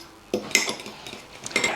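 A spoon clinks and scrapes against a bowl while ginger and date syrup cake batter is mixed, a few sharp knocks and softer scrapes, close by and without talk.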